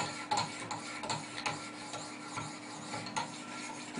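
Repeated rasping strokes of 800 grit stones on a Wicked Edge sharpener drawn along a Spyderco Paramilitary knife blade, a quiet close scraping rhythm of short strokes about every half second, with no talking.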